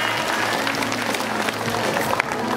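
An audience at a dolphin show at Hualien Ocean Park applauds the red team. The clapping is a steady crowd wash, moderately loud, running for a couple of seconds.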